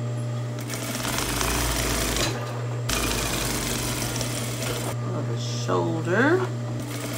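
A sewing machine stitches a peplum top, its steady close mechanical whir running in two long bursts with a short break, then a person speaks briefly as it stops.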